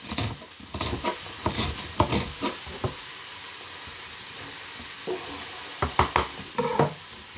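Shredded cabbage, a leaf vegetable, tossed and stir-fried in a pan with celery: a sizzling hiss broken by clattering scrapes and stirring knocks in uneven bursts, with no voices.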